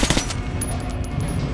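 A regular gun firing in the video game Metro Last Light, a short, rapid automatic burst of sharp shots over a low, dense rumble, loud and close with no talking.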